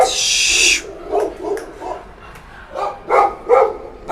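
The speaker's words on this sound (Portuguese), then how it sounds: "até para me concentrar agora com os cachorros latindo tá difícil" Several dogs bark in short bursts, some yelping and howling, at moderate distance and fairly loud, with no voices.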